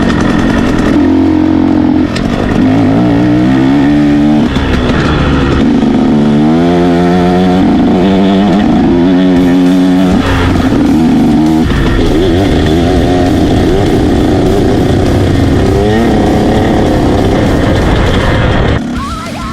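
A KTM XC dirt bike runs warm-up laps on a track, its loud, close engine revving up and down through the gears in sharp rising and falling bursts, then holding a steady roar.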